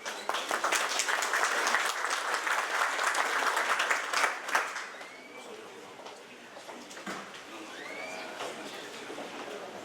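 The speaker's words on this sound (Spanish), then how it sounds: "La recibimos a la licenciada con un fuertísimo aplauso." An audience at a national seminar gives a speaker a welcoming round of applause, dense clapping that tapers off after about five seconds into a quieter room with scattered sounds.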